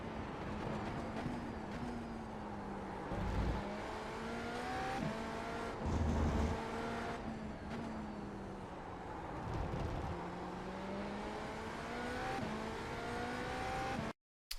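A GTP prototype race car in iRacing at full speed through turn 1 and the following complex at The Bend, its engine droning loud and close with rising and falling pitch through the corners and continuing steadily without a break.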